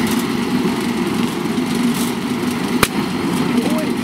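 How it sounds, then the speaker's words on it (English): A compressor pumps homemade biogas from trash into a tank, giving a steady, close mechanical drone with one sharp click near the end. "Set the hose in the compressor and we're going to pump here"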